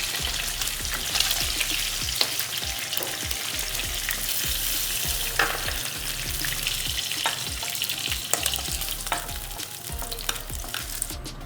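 Fish pieces frying in hot oil, a steady dense sizzle with frequent small pops and crackles, close and continuous without any talking.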